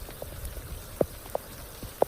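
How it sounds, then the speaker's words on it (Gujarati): Rain falls outdoors in a village during a monsoon shower, with sparse individual drops tapping clearly on a nearby surface over a soft steady background hiss. "વરસાદ અત્યારે ચાલુ જ છે."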